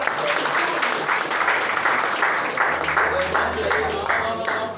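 A church congregation claps during a Lord's Supper service, a full, continuous round of applause with a faint low hum and some speech mixed in underneath.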